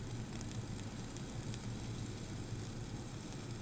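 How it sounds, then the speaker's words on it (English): Sizzling in a pan while baking a white chocolate cheesecake, a faint, steady crackling hiss with tiny pops, continuous and even throughout. "it sounds like it's sizzling, but it's all a big lie"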